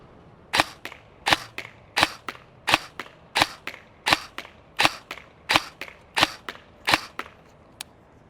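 A G&G SSG-1 AEG airsoft gun fires about ten sharp, evenly spaced shots at a 50-foot target, each crack followed by a faint tick of impact, loud and close with quiet gaps between.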